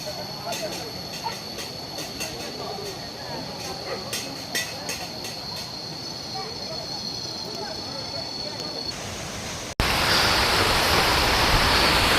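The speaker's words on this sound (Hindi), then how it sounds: "पानी का साउंड सुनिए भाई, गजब का साउंड निकल के आ रहा है।" Rushing waterfall water at a hidden waterfall in Karbi Anglong, Assam, a steady broadband roar heard nearby, with people talking and faint background sounds, turning to a louder hiss near the end.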